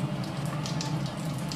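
Bay leaf and cumin seeds sizzle in hot oil at the start of cooking mutton, a dense crackling hiss with small popping spits, close and steady throughout.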